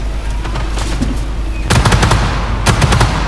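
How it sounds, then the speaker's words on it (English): Autocannon on an AMX 30B2 Brenus tank in Armoured Warfare fires loud, close bursts of rapid shots, a long string followed by a shorter burst, over steady engine rumble. "We're gonna actually change to the autocannon."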